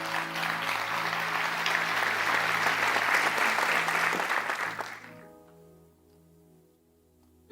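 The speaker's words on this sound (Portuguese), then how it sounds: "Dê um aplauso bem forte ao Senhor." A church congregation applauds in a strong, sustained burst of clapping for about five seconds, then it dies away while a held keyboard or organ chord rings on underneath.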